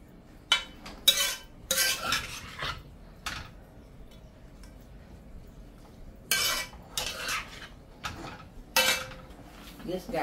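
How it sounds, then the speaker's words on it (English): Stir-frying cabbage in a pan: scattered clinks and scrapes of a utensil against metal in short clusters, with quiet stretches between. "But no, I'm stir frying it today."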